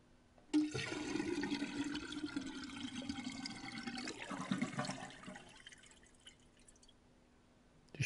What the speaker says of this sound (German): Nein, ich wollte die Spülung eigentlich jetzt betätigen.